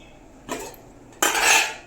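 Soaked rice and moong dal are tipped into a pot of boiling water, two short bursts of pouring and clinking against the metal vessel, the second longer and louder.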